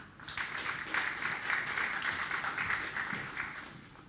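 Applause fills a hall at an award ceremony for the Janusz Kurtyka prize: a dense, steady crowd clapping that holds at an even level for about four seconds with no voices on top.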